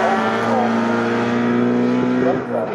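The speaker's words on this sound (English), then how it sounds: "Here comes James Slaughter to cross the timing line" A historic touring race car roars past the timing line at Snetterton, its engine holding a loud, steady drone for nearly three seconds. A commentator's voice runs over the engine noise.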